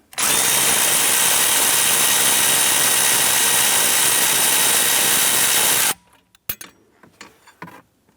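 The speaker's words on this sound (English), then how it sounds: "Using a 10 millimeter socket and extension, let's remove the nut right here on this lower bracket." A power tool driving a 10 mm socket on an extension whirs loudly and continuously for about six seconds. It removes a nut on the lower bracket of a 2008-2013 Nissan Rogue blower motor module, then stops, followed by scattered metallic clicks and handling.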